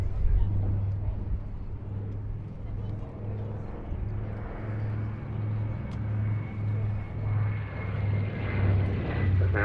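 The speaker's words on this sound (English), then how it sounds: "This is a B-25J model, the most produced variant, with the bombardier sitting up front in the glazed nose" A B-25J bomber flies at the Duxford summer airshow, its twin piston engines giving a steady, moderately loud rumbling drone with a slow pulsing beat, heard under a commentator's voice.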